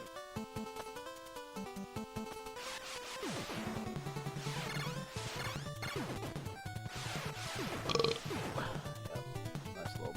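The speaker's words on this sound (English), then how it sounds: "Nice little burp and stuff." A burp sound effect rises from the Contra video game amid continuous chiptune music and game noise, a short gurgling blip standing out near the end over the busy soundtrack.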